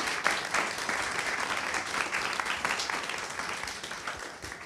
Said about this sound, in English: Big round of applause, Wolfgang Kaleck